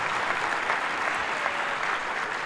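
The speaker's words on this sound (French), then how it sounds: "Vous pouvez les applaudir" Studio audience at a French live debate-contest show clapping steadily, a dense, even wash of applause close by with no talk over it.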